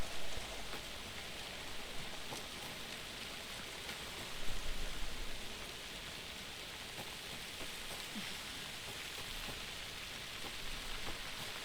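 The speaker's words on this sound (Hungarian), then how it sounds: "Na, eddig is esett az eső" Steady rain falls throughout a scene in the video game Alan Wake II, a dense continuous hiss of drops on surfaces with a brief louder swell midway and no voices.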